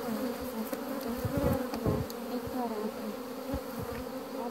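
Swarm of honey bees buzzing steadily around an opened hive while frames are lifted and inspected in an apiary, a dense continuous drone close by with occasional louder passes.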